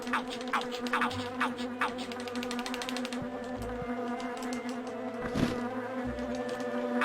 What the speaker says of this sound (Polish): Tak jeszcze osy są tam dziwnie.